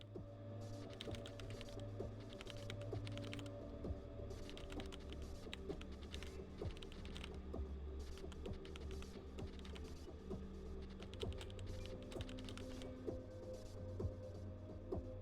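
Someone types on a computer keyboard in a continuous stream of close, light key clicks. A steady low electronic hum sits underneath throughout.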